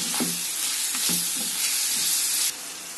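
Tomato curry seasoned with turmeric and salt is stirred in a hot pan, a loud steady sizzle with a few scraping strokes of the spoon, close up and without talk.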